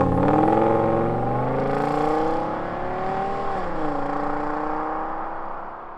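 An Audi saloon fitted with a Lamborghini V10 engine drives past outside, its engine note rising and rolling loud as it nears, dipping at the pass, then fading steadily as it pulls away.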